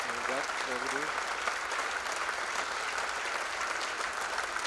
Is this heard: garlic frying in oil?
no